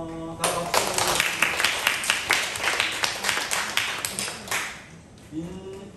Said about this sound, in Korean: 생일 축하합니다. 다 박수.